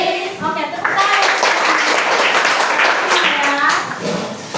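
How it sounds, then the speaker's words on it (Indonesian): Children clap their hands together in a classroom, a loud dense burst of claps filling the room with young voices chattering underneath. "tepuk tangan"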